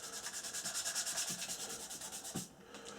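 Steady back-and-forth rubbing of fine abrasive polishing a scribed panel line across a super-glued seam on a plastic model of a C-17 Globemaster III aircraft, close and continuous with a rhythmic stroke pattern, easing off near the end.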